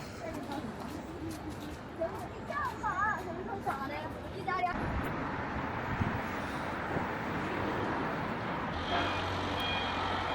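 Trucks unload goods late at night on a city street in China, their reversing beeps chirping repeatedly under constant traffic rumble, with voices chattering in the background.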